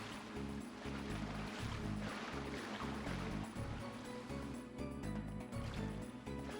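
Steady rushing and splashing water from a waterfall as a character swims up it in the Kingdom Hearts video game, loud and continuous under a rhythmic game music track, with no talking.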